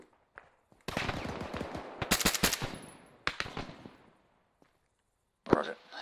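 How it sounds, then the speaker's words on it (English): Bursts of gunfire in a military video game, with rapid automatic fire from close by, then single shots and a trailing volley, fading to quiet before a final loud burst, with faint voices underneath. "I hear some shots to one north as well"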